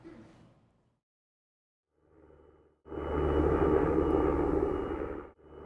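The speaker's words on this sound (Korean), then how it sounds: "군용 헬기가 저공 비행을 하며 경계를 유지하고" A military helicopter flies low over the Belarus border area near Ukraine. A faint rumble gives way to a loud, close, sustained engine roar, cut off abruptly, with some reporter narration heard at the start.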